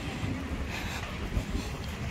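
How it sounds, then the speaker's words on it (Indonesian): Strong wind on a seaside beach, a steady low roaring rumble as gusts buffet the microphone, with no other sounds standing out. "anginnya lumayan besar"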